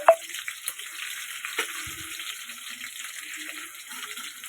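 Drained liver pieces frying in a hot pan with green chillies, giving a steady close sizzle throughout with a few light clinks and stirring scrapes.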